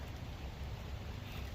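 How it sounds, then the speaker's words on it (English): Rain falls harder in the woods during deer season, a steady, even hiss of drops with no breaks and no voices over it. "it's starting to rain harder again"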